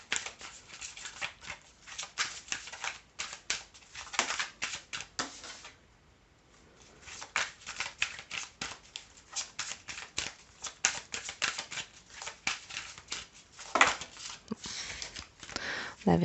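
Cards being shuffled for a tarot-style card reading, a dense run of quick riffling and flicking bursts with a brief pause midway, close and moderately quiet.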